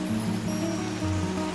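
Water pouring down Bridalveil Fall toward the Merced River makes a steady broadband rush, close and continuous, with a low tonal hum running underneath and no voices.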